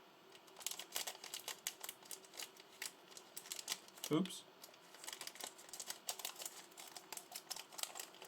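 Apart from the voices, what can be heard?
opening small plastic bag of Lego parts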